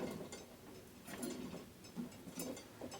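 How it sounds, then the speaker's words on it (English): Ratcheting clicks from a vintage bicycle crank being spun while held back to loosen the crank bolt, a light fast ticking with a few louder bursts, close and fairly quiet, no talking. "You can turn this the boring long way, or you can sort of hold it back and spin the crank."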